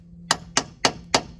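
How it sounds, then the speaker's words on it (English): A metal hammer taps a boat trailer wheel hub back onto its axle: four sharp, evenly spaced metallic knocks, close and distinct over a faint low hum. "it's just a matter of tapping it back on. Really shouldn't use a metal hammer"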